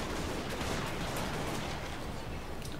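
Gunfire from units in a fantasy strategy game with a vampire army: a dense, continuous crackle of many overlapping shots, loud and steady throughout like a sustained volley, with no speech.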